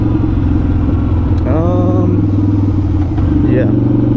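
A 2005 Harley-Davidson V-Rod motorcycle engine rumbles loudly and steadily close by, with a brief rising rev partway through, while someone talks over it.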